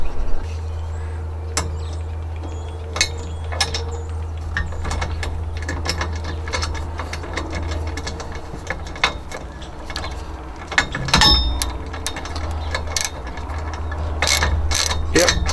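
A lock nut on the hardware of a truck bed kayak rack is tightened with a ratcheting tool. Scattered sharp clicks and short ratchet bursts sound close by over a low, steady hum.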